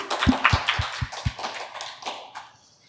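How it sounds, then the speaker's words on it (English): A small audience at a gaming expo stage show gives brief, scattered applause as a volunteer comes up, with a few sharp claps and low thumps near the start that thin out and fade within a few seconds. "Give a round of applause. Make him feel welcome."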